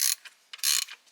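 A car engine belt tensioner being loosened on a supercharged VR6 engine, heard as a few close, sharp metallic ratchet clicks in short bursts separated by brief pauses.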